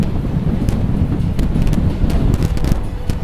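Steady wind buffets the microphone during an outdoor descent at Glenlivet, producing a loud, continuous roar with gusty surges and scattered thumps throughout.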